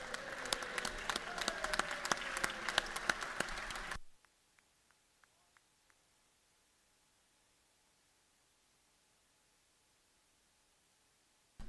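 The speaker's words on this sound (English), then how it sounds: "Let's give Tom a round of applause." A round of applause fills a state House chamber for about four seconds, dense and loud, then cuts off to near silence with a few faint taps.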